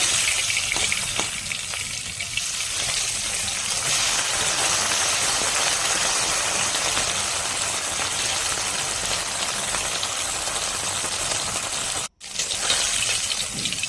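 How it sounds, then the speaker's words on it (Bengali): Parshe fish frying in mustard oil in a pan, a steady loud crackling sizzle running throughout the whole stretch with a brief dropout near the end, no voices present. "এক পাশে ভাজা হয়ে গেছে অন্য পাশে উল্টে দিব"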